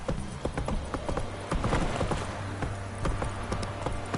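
A horse gallops in The Witcher 3 with rapid, rhythmic hoofbeats that drive on steadily and close up, with a faint background murmur and no clear talk.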